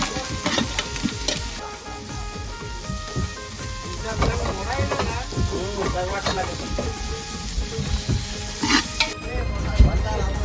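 Onion, green chili and garlic fry on a fishing boat, giving a busy close sizzle with clatter and stirring, while voices chatter over it and a steady background hum runs underneath.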